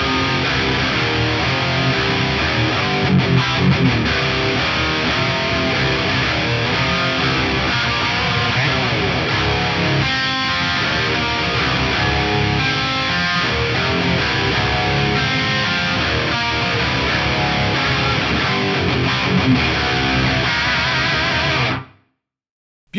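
Electric guitar plays continuously through a 30-millisecond modulated delay, swirling with echoing repeats and a wavering, chorus-like shimmer before stopping abruptly.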